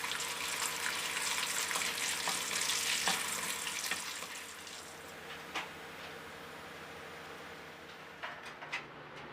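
Scraps of thin pork slices fry in oil, giving a hissing sizzle that is louder at first and then eases to a quieter bubbling with a few light clinks near the end.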